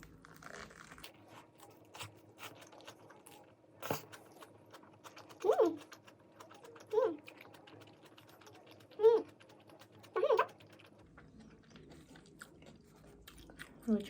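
Someone eats a salad wrap of raw vegetables in a thin flour wrapper, giving a handful of soft, crisp crunching bites spaced a second or two apart, close but fairly quiet against a faint background hum.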